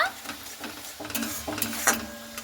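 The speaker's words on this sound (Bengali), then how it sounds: "মশলাটাকে আর মটরশুঁটিটাকে দিয়ে খুব ভালো মতো করে আমি নাড়াচাড়া করে নেব" Green peas are stirred into frying masala for a cabbage dish, with a close, soft sizzle broken by repeated scraping and knocking strokes of a spoon in the pan.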